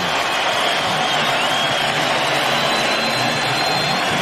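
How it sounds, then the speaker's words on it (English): A basketball arena crowd roars without a break as the New York Knicks celebrate a 1999 playoff game against the Atlanta Hawks, a dense and loud wash of cheering with a faint commentator voice beneath it. "The crowd losing it, and the Knicks now celebrating"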